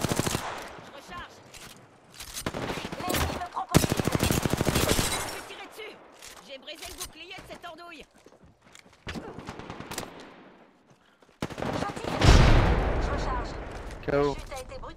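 Sustained bursts of automatic gunfire and blasts from a shooter video game, loud and dense, broken by short lulls, with a heavy impact near the end and speech mixed in.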